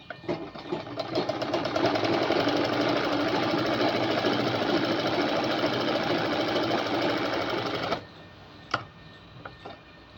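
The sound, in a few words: sewing machine stitching a folded fabric edge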